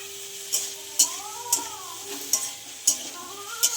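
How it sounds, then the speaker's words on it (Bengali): Peas and potatoes sizzle in a wok while a spatula scrapes and stirs in sharp, regular strokes about every half second, close and clear. "কড়াইশুঁটি আর আলু, এবার এটা ফ্রাই হবে"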